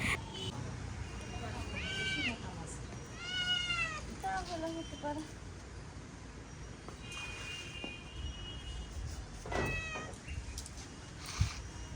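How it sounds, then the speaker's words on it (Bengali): Several cats meow indoors in short, separate calls, a few drawn-out and wavering, spread across the stretch with quiet room sound and faint background noise between them. "এই দেখো এখন চলে আসলাম এই বিল্লিদের কাছে"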